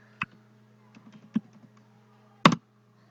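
Keys struck on a computer keyboard while typing a layer command in AutoCAD: a few scattered clicks followed by a louder double tap at the end, close and alone with no talk.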